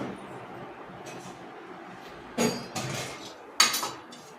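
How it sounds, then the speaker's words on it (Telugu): A kadai is set down on a stove in a home kitchen, giving two distinct metallic clunks over a quiet background. "స్టవ్ ఆన్ చేసి కడాయి పెట్టుకోవాలి"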